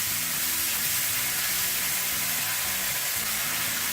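Dill leaves (suka saag) frying in hot oil with cumin and coriander powder, a steady close dense sizzle with no talk.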